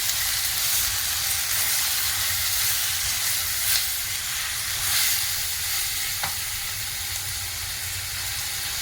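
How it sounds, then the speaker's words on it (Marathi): Onion and tomato sautéing in a hot pan for butter chicken, a steady, loud, close sizzle that never lets up, with occasional soft stirring touches and no talk. "कांदा थोडा परतून घ्यायचा, नंतर त्यामध्ये आपण टोमॅटो ॲड करणार आहोत। टोमॅटो पण परतून घेणार"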